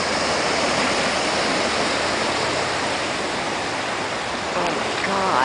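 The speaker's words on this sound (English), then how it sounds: "The brook that overflowed." A brook that has overflowed after heavy rain in Rhode Island rushes in a loud, steady roar of water, close and constant. There is no break in the flow.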